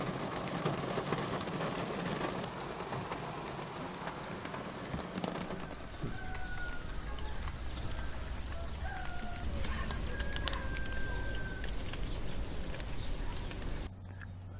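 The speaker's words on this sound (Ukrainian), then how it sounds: "Пустився дощ, сидив в машині" Steady rain hisses throughout, heard while sitting in a car on a fishing trip, a broad constant patter, while a few faint bird calls chirp over it in the second half.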